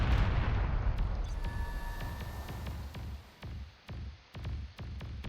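Bombing explosions in the strategy video game Beyond All Reason: a dense rumbling barrage of booms at first, giving way to several separate heavy blasts spaced about half a second apart, loud and close.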